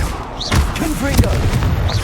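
A Confringo blast spell from Hogwarts Legacy bursts with a sharp booming impact, followed by crackling, whooshing game effects and rumbling low thuds that sustain loudly to the end, with a voice sounding faintly beneath.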